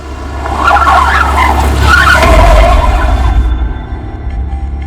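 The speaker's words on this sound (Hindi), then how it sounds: "रियाज, गाड़ी घुमा।" A car turns sharply with its tyres skidding and squealing loudly over a deep engine rumble, the screech swelling and fading over several seconds, close and alone without talk.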